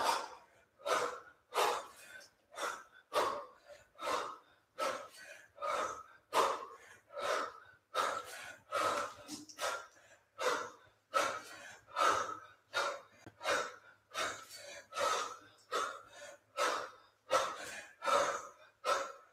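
Heavy, rhythmic breathing during a kettlebell swing workout, about two dozen forceful exhalations in a steady cadence, close and loud, with no talking over it.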